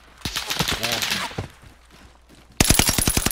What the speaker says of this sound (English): They were shooting at the back.